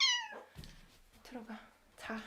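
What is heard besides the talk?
pet cat meowing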